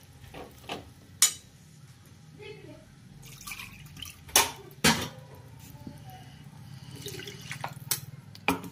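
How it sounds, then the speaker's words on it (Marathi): Water is poured into a pan of brinjal curry, giving a few splashes and sharp clinks against a low stovetop hum, with talking in between. "यामध्ये अजून थोडं पाणी घालणार आहोत"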